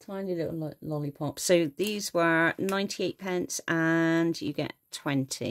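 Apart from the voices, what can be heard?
No distinct noise like a dog, phone or traffic.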